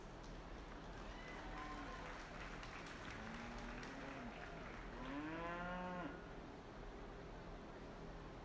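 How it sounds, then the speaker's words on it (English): An audience at a 4-H/FFA beef heifer show claps steadily, and cattle moo clearly over the noisy, sustained applause. "Let's give them all a round of applause on their bred and owned cattle."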